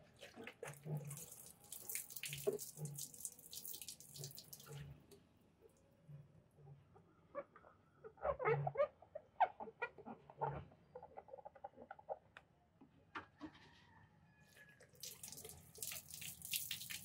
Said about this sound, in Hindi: पानी से धो लेंगे।